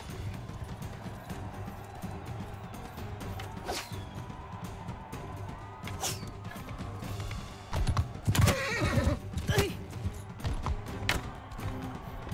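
A horse whinnies in the Mount and Blade Bannerlord medieval battle game, with a loud neigh rising midway over clip-clopping hooves and background battle noise.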